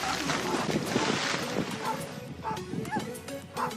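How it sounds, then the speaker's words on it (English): A small dog barks at a group of six seals by the water, with sharp yips over strong wind buffeting the microphone and a boat engine, while people talk nearby. "when a small dog ran into 6 seals"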